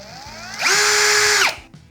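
A Procraft 20V cordless drill with hammer and drilling modes spins up as the trigger is squeezed gently, holds a steady high whine for about a second, then winds down; no talk over it.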